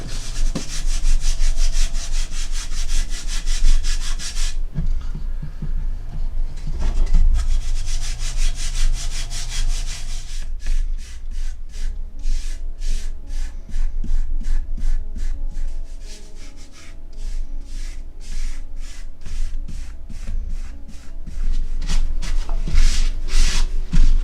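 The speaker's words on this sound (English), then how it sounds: "I'm going to get it on my fingers and then just basically rub it over" Wood filler being rubbed by hand over a 3D-printed ship figurehead, a continuous close scraping and rubbing with short repeated strokes, no talking.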